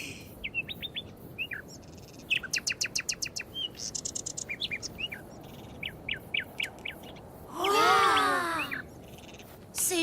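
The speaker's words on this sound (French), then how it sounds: "On entend l'oiseau qui est là-bas." Birds chirp in a cartoon desert near palm trees, a quick run of short, bright tweets and trills repeating in bursts, followed by a brief rising swoosh, with no talking.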